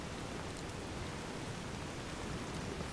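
Rain in the video game Fallout New Vegas makes a faint, steady, broadband hiss of dense patter with no distinct drops, unchanging throughout.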